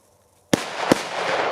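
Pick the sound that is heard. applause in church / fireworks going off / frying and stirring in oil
fireworks going off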